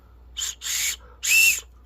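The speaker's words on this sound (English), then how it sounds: "and then a whistle" A small plastic whistle from an ammo-can survival kit is blown in three short, shrill toots. The first is brief and the last two are longer, all close and fairly loud over a quiet background.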